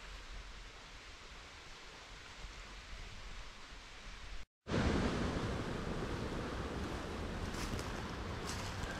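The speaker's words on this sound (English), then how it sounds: "this is a serious flow of water over here" Water pours steadily over a waterfall into a river in a Scottish forest, a dense continuous rush that cuts out for a moment and returns louder and closer, with no voices.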